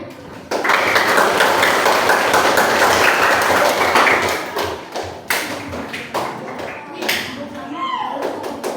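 Primary-school pupils in a classroom clap their hands in a thick, steady burst that lasts several seconds, then thins into scattered, uneven claps and a few stray taps.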